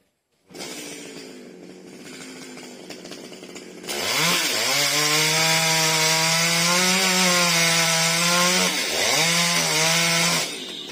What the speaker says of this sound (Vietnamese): Rồi bắt đầu anh thử sẵn anh cưa cái nhánh anh treo nãy đó các bạn.